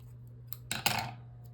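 Scissors snip paper trimmed down for a planner page, a quick pair of close crisp cuts over a low steady hum in a quiet room.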